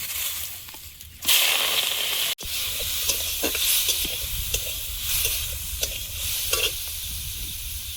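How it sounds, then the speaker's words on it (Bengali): Prawns frying in a little oil with a spoonful of turmeric in a wok, a steady close sizzle with stirring scrapes and brief louder bursts, no talking. "কড়াইতে সামান্য তেল দিয়ে দেব, তেলে 1 চামচ হলুদ দিয়ে চিংড়িটা ভেজে নেব।"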